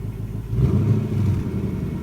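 A 2020 Mustang's engine settles into a deep, smooth idle rumble, loud and close, with no talking.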